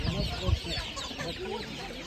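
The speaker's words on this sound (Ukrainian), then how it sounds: "Гарна гуска." Poultry calls at an outdoor livestock market where geese are being sold, a few loud clucking honks near the start over a steady busy crowd murmur.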